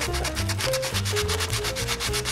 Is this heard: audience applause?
no